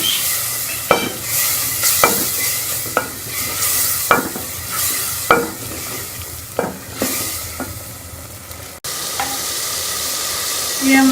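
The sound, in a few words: spices being fried and stirred in a pan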